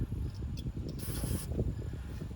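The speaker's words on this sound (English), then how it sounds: "I think I'll spray these first." A spray can sprays bus parts in one short hiss of about half a second. It is heard close up over a low, rumbling background.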